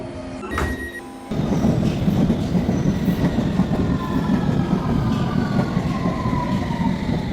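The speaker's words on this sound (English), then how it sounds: "So we're off to get the train down there now" A train heading to East Croydon station in London rumbles steadily with rhythmic rail clatter, loud and close from inside the carriage, after a brief quieter moment at the start.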